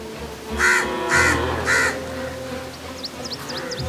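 Three loud, harsh caws from a nearby crow in quick succession, followed by faint high chirps in the background.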